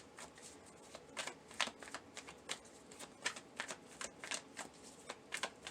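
Tarot cards being shuffled by hand: a rapid series of soft, papery riffles and flicks, close and fairly quiet, coming in uneven bursts without speech.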